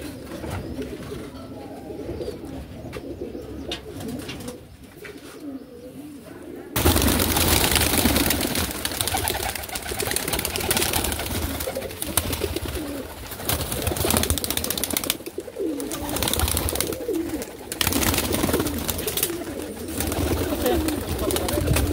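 Pigeons in a loft, including a season's new chicks, coo amid dense, harsh rustling and flapping noise that swells suddenly partway through, with voices faintly mixed in.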